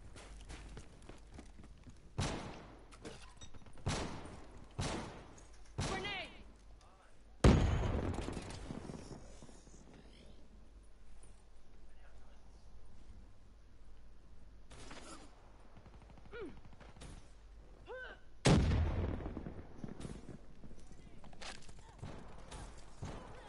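Scattered gunshots in a PS4 shooter game, several sharp separate bangs early and two heavier blasts with echoing tails later, spaced by quiet stretches with faint background rumble.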